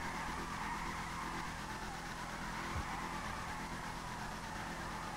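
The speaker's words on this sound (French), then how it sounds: "Regardez comment ça drift." A car drifts in GTA 5 with tires squealing, a sustained engine roar and screeching skid held at steady loudness throughout.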